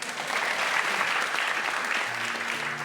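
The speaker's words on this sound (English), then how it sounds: "please offer her a round of applause" Steady studio audience applause on a radio comedy show, dense and fairly loud throughout, a broad wash of clapping with no voices over it.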